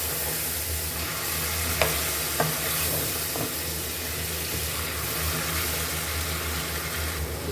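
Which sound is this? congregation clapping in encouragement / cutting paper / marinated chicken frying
marinated chicken frying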